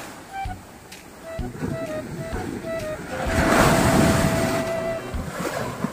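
Sea waves break and wash around a small outrigger boat in rough water, with wind buffeting the microphone and scattered knocks and splashes, the surf swelling louder midway.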